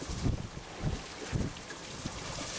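A sailboat under sail on open water, with wind buffeting the microphone and water sloshing against the hull in several low surges over steady rushing noise. There is no talking.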